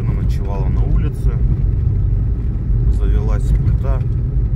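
A Lada Niva's engine drones steadily while the car drives, a dense low rumble running through the whole stretch, with a voice heard over it.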